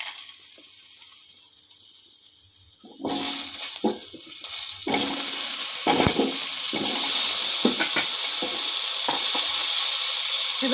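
Potato and raw green banana pieces hit hot oil in a pan for a Bengali shukto, bursting into a loud, steady sizzle after a quieter start, with scraping and stirring clatter throughout and no talking.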